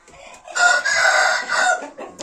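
A rooster crows loudly and close by, one long drawn-out call lasting about a second and a half.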